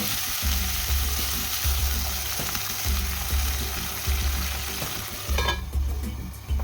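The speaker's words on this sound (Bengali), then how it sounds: "সামান্য একটু জল দিয়ে আমি এটা একটু তাড়াতাড়ি করে সিদ্ধ করে নেবো।" Vegetables for shukto sizzle and crackle steadily in a hot pan as a splash of water goes in, with repeated low thumps of stirring throughout and no talking.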